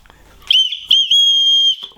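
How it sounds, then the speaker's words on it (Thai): A tiny toy keychain whistle with a light is blown indoors in a few shrill, piercing bursts, the last one held steady for nearly a second, very close and loud. "นกหวีดนะครับ"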